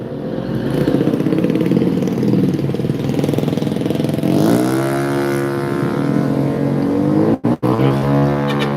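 A motorcycle engine idles close by with a steady, throbbing putter, rising slightly in pitch midway, then cut by two brief dropouts near the end.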